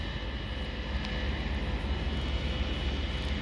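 A mini snowblower runs during a snowstorm in Montreal, Quebec, giving off a steady, loud, broadband engine roar that stays constant throughout.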